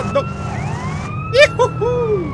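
Police-style siren from a car in GTA San Andreas, loud and near, with sweeping wails and short whoops over a low engine rumble and some tonal game sounds.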